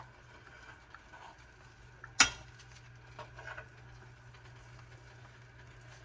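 A spoon drags gently through chicken and dumplings in a pot, with one sharp metallic clink against the pot and faint soft scraping and bubbling, quiet and close.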